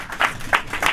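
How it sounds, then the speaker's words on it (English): A spoken-word event audience claps for a performer, a brief, thin patter of a few distinct claps, moderately close, with no voices over it. "Clap it up."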